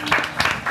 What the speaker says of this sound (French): Un maximum de bruit pour Jason.